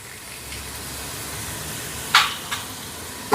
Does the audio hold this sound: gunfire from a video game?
no